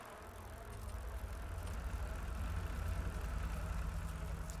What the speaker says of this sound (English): Cars sound pretty cool.